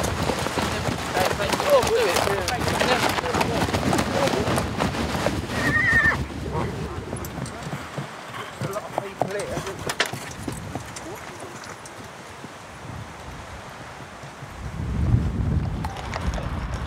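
New Forest ponies being driven in to Beaulieu Road neigh and whinny while hooves clip-clop outdoors, with wind buffeting the microphone and a loud whinny near the middle.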